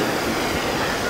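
Motors on a homemade quadcopter give a loud, continuous roaring rumble close by, steady and dense like a passing train.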